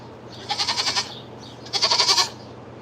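A goat bleats twice nearby, each call a loud, wavering bray lasting about half a second, with a short pause between.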